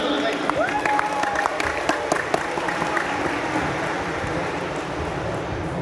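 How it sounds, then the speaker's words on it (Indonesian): An indoor audience at a public talk applauds steadily throughout, fairly loud and even, while a voice speaks faintly over the first couple of seconds. "Tepuk tangan."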